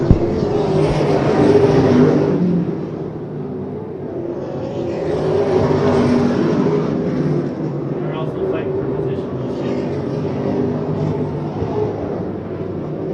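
Super late model race cars roar around an asphalt oval in a 150-lap series race, engine noise swelling and fading as the pack passes, with a commentator talking over the loud, continuous racing.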